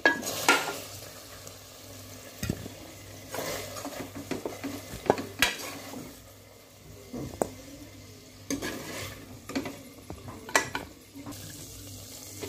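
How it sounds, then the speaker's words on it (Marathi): Pieces of fried chicken are scraped and shuffled into a wok, with metal utensil clinks and soft sizzling at irregular intervals, close by. "मी इथं एका कढईमध्ये काढून घेते"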